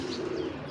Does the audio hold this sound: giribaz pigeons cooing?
yes